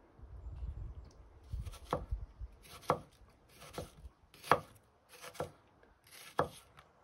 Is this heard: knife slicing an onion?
yes